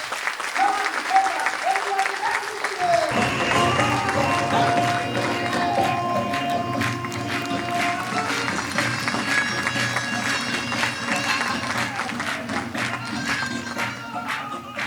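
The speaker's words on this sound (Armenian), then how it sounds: "բարձր ծափերով դիմավորեք" Loud, sustained applause fills a comedy show venue in Armenia as the audience welcomes the comedians onstage, starting just before the three-second mark, with dense clapping and crowd noise that continues steadily to the end.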